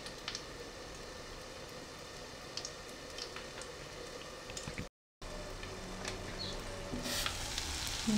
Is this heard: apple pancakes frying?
yes